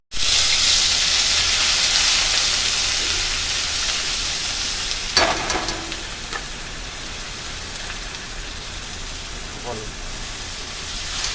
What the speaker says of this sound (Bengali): আমি এখানে গ্রেট করা পেঁয়াজ, আদা আর রসুনটা দিলাম আগে